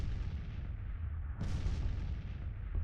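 Artillery thunders in Grand Tactician: The Civil War, a low rumbling battle bed broken by one sharp, loud cannon boom midway and a fainter report near the end.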